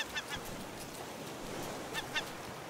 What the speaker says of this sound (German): Zwei Vögel.